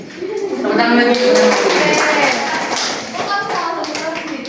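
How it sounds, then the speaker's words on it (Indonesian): A classroom of students claps their hands during an Islamic jurisprudence lesson, a short burst of close, lively clapping mixed with children's voices, rising and then tapering off. "Tepuk tangan lagi"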